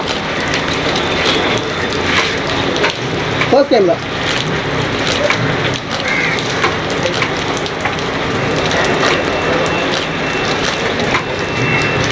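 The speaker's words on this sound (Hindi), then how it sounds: "बारिश आ रही है, आज खतरनाक बारिश हो रही है मुंबई में।" Heavy rain pours down on a busy street in Lokhandwala, Mumbai, a dense, loud, continuous hiss filling the scene while people talk nearby and a brief sharp clatter cuts through.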